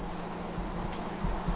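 Cicadas from a sound library play as a steady, faint, high-pitched trill pulsing in regular short bursts, alone and without talk.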